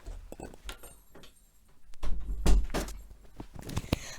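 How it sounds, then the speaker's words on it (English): A door being pushed shut indoors, with a few light handling knocks and rustles before a heavier thud and latch noise in the middle, fairly close, with scattered small bumps around it. "Hold on, I'll just shut the door"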